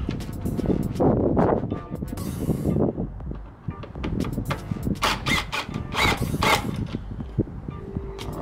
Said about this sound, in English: We're gonna remove both of these bolts right here, the Torx